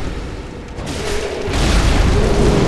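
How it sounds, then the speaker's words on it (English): Boss area-of-effect attack in the video game Bloodborne, heard as a broad rumbling boom that swells and grows louder halfway through, with no talk over it. "AoE attack."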